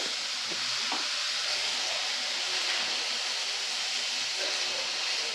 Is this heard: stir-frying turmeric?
yes